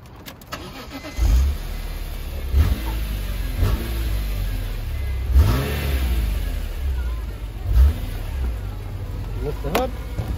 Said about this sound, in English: I'll go ahead and start the car up.